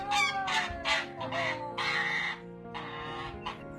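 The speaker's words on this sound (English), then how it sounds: "Looks like you're being attacked by an angry goose" An agitated goose honks and squawks in a run of loud, harsh calls close by, several bursts in quick succession with no talking.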